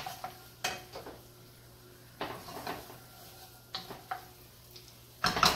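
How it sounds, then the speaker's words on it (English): Onions and shallots cooking in olive oil in a pan, with a spoon scraping and clinking against the pan in scattered strokes over a faint steady sizzle and hum, close and moderately quiet. "I'm going to saute some onions and a little bit of shallots that I had."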